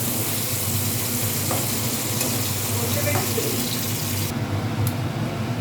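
Steady, hissing sizzle of fish frying in a hot pan, continuous throughout with a few faint clinks.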